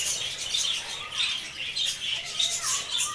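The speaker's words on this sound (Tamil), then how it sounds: "ஸோ இது ஃபுல் அண்ட் ஃபுல்லாக வந்து லவ் பேர்ட்ஸ். ஸோ இதில் ஒரு 60 பேர் இருக்கும்." Dense chatter of about sixty lovebirds of many colours in a colony breeding aviary, continuous high squawks and chirps overlapping throughout, fairly close with no voices.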